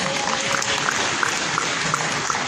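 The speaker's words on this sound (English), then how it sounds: "Round of applause." Audience applause at a presidential peace accord gathering in the ICC hall in Abuja, greeting a female candidate; steady, moderately loud clapping from a large crowd for about two and a half seconds, with no talking.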